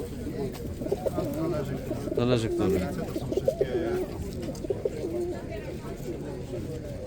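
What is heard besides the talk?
pigeons cooing at a pigeon market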